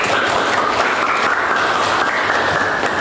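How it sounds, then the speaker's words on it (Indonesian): A school class of 9th graders claps together in the classroom at the start of a morning lesson, a dense, steady patter of many hands that holds loud and even throughout, with no voices over it. "Tepuk tangan dulu."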